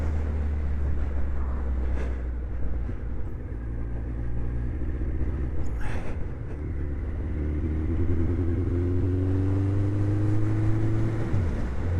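A Suzuki GSX 1400 motorcycle with a fuelling fault drones under a test ride, its engine note steady then climbing in pitch as it accelerates near the end, heard close over wind rush.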